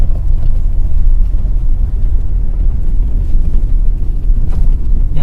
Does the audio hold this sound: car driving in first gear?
yes